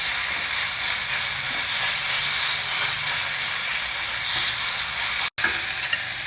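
A paste of ground carrot, dry red chilli and tomato ketchup stir-fries in a hot pan, with a steady, close sizzle and hiss that runs throughout and is cut by one brief dropout near the end.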